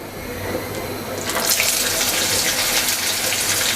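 Small shrimp fritters dropped into hot oil, a faint hiss suddenly swelling into a loud, steady, broad sizzle of bubbling oil that continues at close range.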